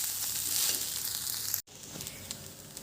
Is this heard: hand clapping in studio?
no